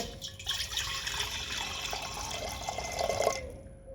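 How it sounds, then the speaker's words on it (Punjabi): Water pours steadily into a cooking pot before rice is added for kheer, a continuous splashing stream lasting several seconds, close and fairly loud, then cutting off near the end with no talk. "ਆਪਾਂ ਹੁਣ ਥੋੜਾ ਜਿਹਾ ਪਹਿਲਾਂ ਪਾਣੀ ਪਾਵਾਂਗੇ ਵਿੱਚ"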